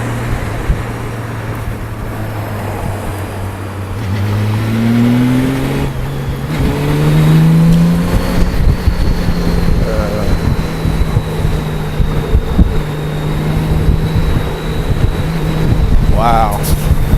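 Motorcycle riding through congested bumper-to-bumper Washington DC traffic, a steady low engine drone that rises and falls with throttle, mixed with wind buffeting and surrounding road noise, continuous throughout.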